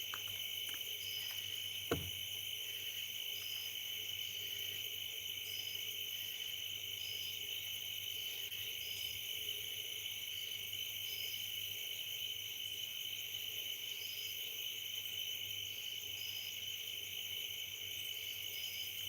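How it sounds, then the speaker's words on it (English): Cicadas drone steadily through an Alabama night, a dense continuous buzz with faint repeating pulses, moderately loud and unbroken, with a single brief knock near the start. "it doesn't seem like the cicadas are as loud as some nights"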